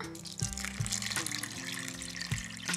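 Water runs steadily into bread dough with yeast while a surprise loaf is made for New Year, a continuous close pouring stream with no talk.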